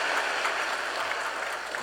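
Congregation clapping to welcome visiting guests during a Sunday church service, a dense, even patter of applause throughout the short stretch.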